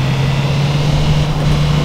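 Audi R8 V10 engine in the City Car Driving game, a steady loud drone held at a constant pitch through the short clip with no rise audible, sounding alone without speech.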